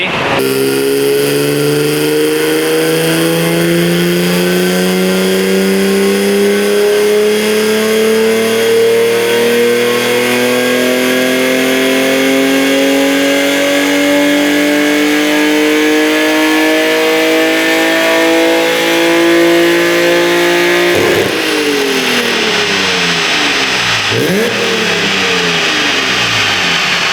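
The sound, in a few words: BMW E36 M3 engine revving during dyno pull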